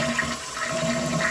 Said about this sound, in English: when I flush the toilet, the water will go through this hose and into this pipe here